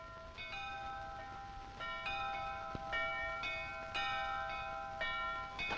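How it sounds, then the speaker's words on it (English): Several bells ring out in an irregular overlapping peal, clear tones repeating over a quiet background, moderately distant. "Bells!"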